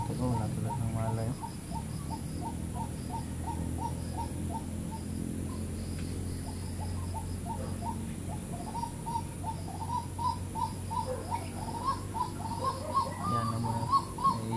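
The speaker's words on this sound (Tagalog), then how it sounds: "May ibon na tumutunog." A bird repeats a soft, rhythmic call in the background while people talk nearby over a steady low rumble.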